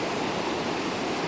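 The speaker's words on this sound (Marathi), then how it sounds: "बघा हे धबधबा" A waterfall gives a steady, dense rushing roar that stays even and close throughout the short stretch, with no voices over it.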